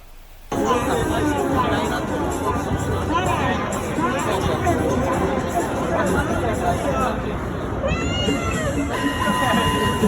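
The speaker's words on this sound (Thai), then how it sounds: "ปิดท้ายกันด้วยคลิปน้องแมวน่ารักน่ารักนะคะ" Cute cats meow repeatedly in high, rising calls over a lively background of crowd chatter and babble, the meows clustering throughout and again near the end.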